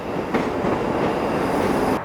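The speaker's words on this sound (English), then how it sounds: "I quite like those Class 334 trains." A Class 334 electric train rumbles steadily past close by, a loud continuous roar with faint rhythmic wheel clatter.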